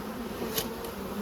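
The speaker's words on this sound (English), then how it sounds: "A lot of bees out the front, which is a bit concerning." Honey bees buzz at the entrance of a hive being moved in November, a steady, dense, moderately loud drone with brief brighter swells as individual bees fly close.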